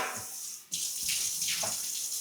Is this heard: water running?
yes